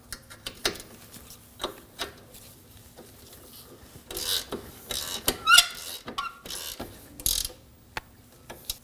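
A 17mm wrench and socket snug down the rear strut nut and bolt on a 2013-2015 Subaru XV Crosstrek, giving scattered ratchet clicks, metallic scrapes and clinks in short irregular bursts, fairly faint and close.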